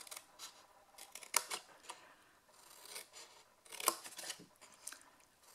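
Scissors snipping paper tabs for a display box, a series of quiet close crisp cuts and rustles in an irregular rhythm.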